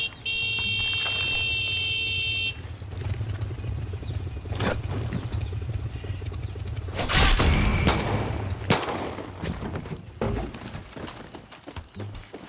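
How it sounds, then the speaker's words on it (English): An alarm in Far Cry 6 on PS5 sounds first as a steady electronic tone for a few seconds, then cuts off. Gunshots, booms and scattered bursts of combat noise follow. "to kill the alarm"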